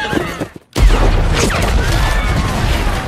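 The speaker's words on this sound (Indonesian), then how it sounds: "makanya ia menaruh dinamit di keretanya. Ledakan itu langsung memporak-porandakan mereka semua" Dynamite explosion set on a wagon in a western film, a brief rumble, a sudden silent gap, then a loud sustained blast with crackling debris and roaring aftermath, under faint narration.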